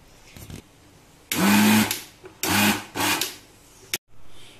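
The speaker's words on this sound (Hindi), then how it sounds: "चलिए हम ब्लेंड करके दिखाते हैं इसे" Electric mixer grinder blending custard with cream for ice cream, running in three loud whirring bursts of about half a second to a second each with brief pauses between, ending abruptly.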